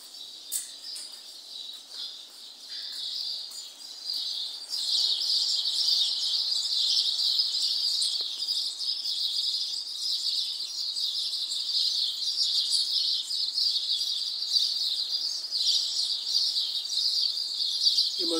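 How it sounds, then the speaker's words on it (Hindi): Birds chirp and twitter among plants in the garden inside Masjid Qiblatain, a continuous bright high chorus that stays fairly loud throughout, with no talking. "और चिड़ियां बोल रही हैं अल्लाह की तस्बीह बयान कर रही हैं"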